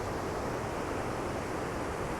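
Ocean waves of modest size break along the San Francisco coast, a steady broadband wash of surf and wind noise with no distinct individual crashes.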